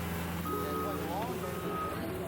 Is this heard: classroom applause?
no